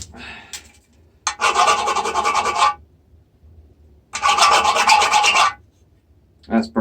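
A hand file rasps across a brass tap pulled from a scrap skip in two loud, sustained bursts of scraping strokes, separated by a quiet pause, with a brief start of another pass at the end.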